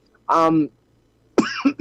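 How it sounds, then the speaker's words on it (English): A person gives a short, voiced cough followed after a pause by a second, harsher cough-like burst, close to the mic with no other sound around. "I'm coughing"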